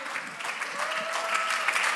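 Steady applause from an audience at a youth talk show honouring a pastor, a dense, even wash of many hands clapping throughout, moderately loud with no voices on top.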